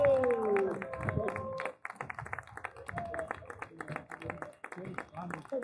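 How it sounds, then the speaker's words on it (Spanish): Scattered clapping from spectators at a Club Deportivo Picasso football match as number 14, Javi Ortiz, is substituted off. The claps are quiet and uneven, with someone talking over them throughout. "Un aplauso para él."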